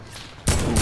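A single loud sniper rifle shot in Fortnite cracks in abruptly partway through, with a dense sustained blast that holds to the end after a quieter lead-in.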